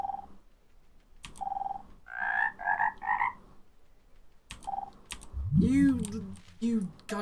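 Frog croaking in the game Everything, a series of clear, close ribbiting croaks in short rhythmic bursts separated by quiet gaps, with someone talking and laughing near the end.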